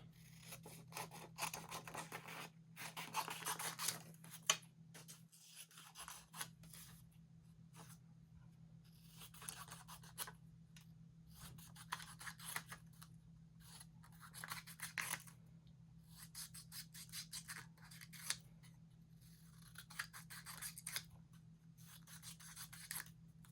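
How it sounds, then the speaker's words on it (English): Scissors snip out paper words for a craft project, making quiet crisp cuts and rustling paper in an irregular run of short strokes, close up with no talking. "First thing I'm gonna do is I'm gonna cut out my words for my thoughts."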